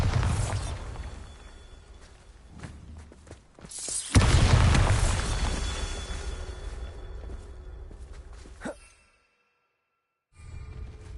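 Bombarda blasting spell exploding in the Hogwarts Legacy video game: a heavy booming blast with shattering debris that rumbles and decays over several seconds, followed by a smaller impact and brief silence.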